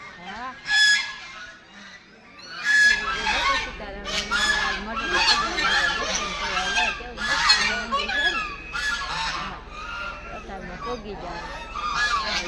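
A flock of geese at a temple in Madhda honks loudly and continuously, many harsh calls overlapping close by, with some voices mixed in.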